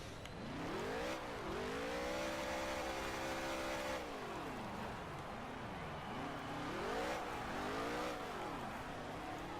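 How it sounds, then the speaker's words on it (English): A stock car at the end of a NASCAR Heat 3 dirt race at Bristol does a burnout, its engine revving up and falling back in repeated swells over a continuous roar of spinning tires. "Do our burnout."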